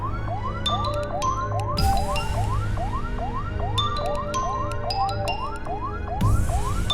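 An ambulance siren wails in a repeating rising sweep through the whole stretch, loud and close, with brief higher electronic tones and chirps layered over a steady low rumble, and no voices.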